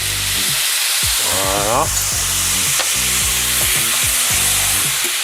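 Noodle mixture frying and sizzling in a hot pan, with steady stirring and scraping throughout and a brief spoken word over it.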